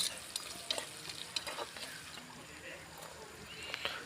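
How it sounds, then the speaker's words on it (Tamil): Dried red chillies and curry leaves frying in a pan, a soft continuous sizzle broken by scattered light scrapes and clicks of stirring, close and fairly quiet, with a voice faintly present. "வரமிளகாய் சேர்த்திக்கலாங்க கூடவே கருவேப்பிலை ஒரு கொத்தையும் உருவி போட்டுக்கலாங்க இது எல்லாத்தையும் சேர்த்து நல்லா கிளறி விட்டுடலாம்"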